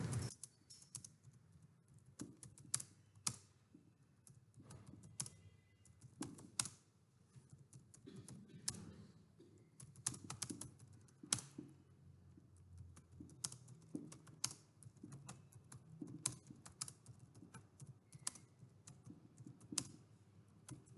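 Someone types steadily on a computer keyboard, with quiet, irregular key clicks and occasional louder taps continuing alone for about twenty seconds.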